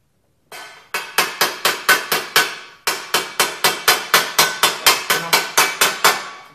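Blacksmith hammering metal over the ball of an anvil, a close, loud series of sharp ringing strikes in steady rhythm, two quick runs of blows separated by a brief pause.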